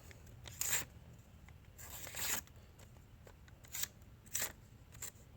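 A sharp knife blade slices through a small piece of paper in several quick, crisp strokes, each a short rasping hiss separated by brief pauses, close and fairly quiet.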